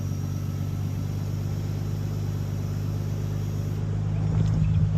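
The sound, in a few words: ATTESA fluid pump running with engine on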